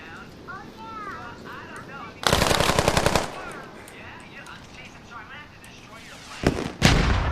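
Bursts of automatic gunfire in the Squad PC military shooter, a loud sustained volley near the middle and two shorter bursts near the end, with game voices talking underneath.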